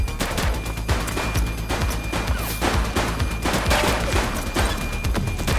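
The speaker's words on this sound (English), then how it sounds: "Light them up! He's shooting!" Rapid gunfire in The Precinct, a police action video game, with bursts of automatic and single shots cracking continuously and loudly over about five seconds, no talk over them.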